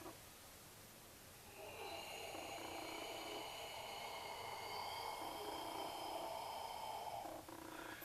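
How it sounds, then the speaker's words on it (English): One long, deep, breathy exhale during qigong practice rushes out steadily for several seconds, soft and close, then stops abruptly. "and exhale"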